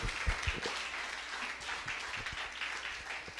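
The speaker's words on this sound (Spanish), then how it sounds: "Dale a Él esas palmas, iglesia." A church congregation clapping in praise during a Spanish-language service, dense applause with a few sharper, closer claps and thumps mixed in, steady throughout the short stretch.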